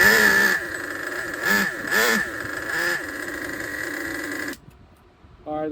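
A used Traxxas 4tec nitro RC car engine idles with a high, buzzy drone, rising into a few short revs before cutting out near the end and briefly restarting, close and fairly loud.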